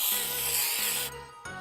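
A cheap towel scrubs spray wax across a small surface, giving a close, continuous rubbing swish with a brief pause near the end and no talking.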